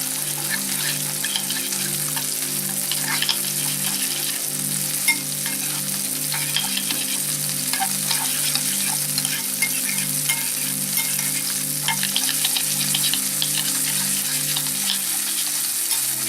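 A sauce seasoned with salt, pepper and lime juice sizzles steadily in a hot pan as it is stirred, a constant close crackle over a low electrical hum, with no voices.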